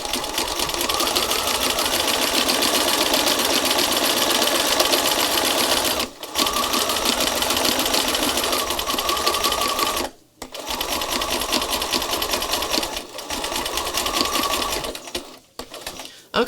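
A sewing machine stitches through a thick layer of denim, heavy interfacing and lining fabric, running as a loud, steady, close whir with a few brief pauses.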